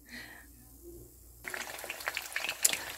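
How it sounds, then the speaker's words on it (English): A quiet pause gives way to a burst of crackling and spitting as eggs hit hot oil, sizzling steadily with sharp pops. "using the same oil that I'm using for frying, I am going to fry eggs"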